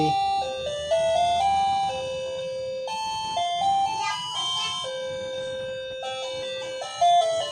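A newly installed wired doorbell chime at a laundry plays bright electronic melodies, stepping through several tunes in turn with short pauses between presses, fairly close in a quiet room.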